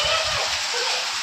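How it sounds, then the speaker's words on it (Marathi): Heavy rain pours down steadily in a rural village, a dense, continuous hiss that fills the whole moment without letup, with faint low rumbles beneath. "लय जोरात चालू पाऊस."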